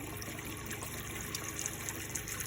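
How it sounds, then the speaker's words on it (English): Water rushes steadily through the tap of an Autotrail Cheyenne 660 motorhome, a continuous smooth hiss and gush with no air sputter, close and unbroken with no talk. "once the water's coming through nice and smooth like it is now"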